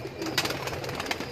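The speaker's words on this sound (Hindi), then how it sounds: "ये मियां साहब वाले कबूतर हैं या चौधरी साहब वाले" Pigeons of the Mian Sahib and Chaudhry Sahib breeds coo softly in a continuous low murmur, with a few brighter flutters or calls rising briefly above the steady bird chatter.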